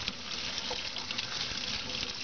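Water runs from a classroom sink tap while a paintbrush is washed, a soft, steady splashing gush that stays quiet and even, with no voices.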